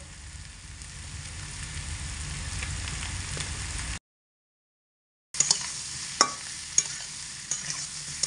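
Pumpkin and potato sauté over medium heat with cumin, red chilli and coriander powder for a vegetarian dish, giving a steady close hiss with stirring. It breaks off into brief silence, then returns with sharper spoon clicks.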